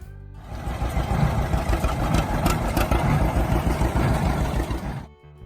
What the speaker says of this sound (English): the unmistakable sound of John Deere's Model A